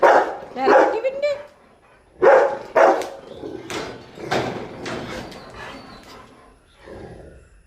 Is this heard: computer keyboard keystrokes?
no